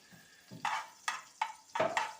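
Onions fry in oil in a pan for a home-made chicken roll: a soft sizzle broken by about five sharp spatula scrapes and stirs in an uneven rhythm.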